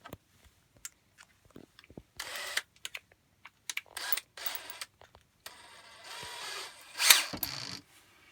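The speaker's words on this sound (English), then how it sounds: "Put it in your drill." A power drill drives a bit into a small wooden ring box piece in short bursts: repeated brief whirring spurts separated by pauses, faint and close, with one longer, louder run near the end.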